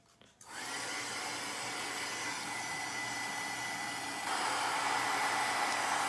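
A heat tool blows a steady, close whooshing roar as it melts black embossing powder onto a paper card, starting after a brief click and getting slightly louder partway through.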